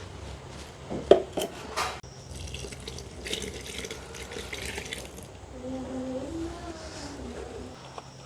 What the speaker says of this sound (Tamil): இதுக்குள்ள தண்ணி விட்டு நான் கொள்ள போகிறேன்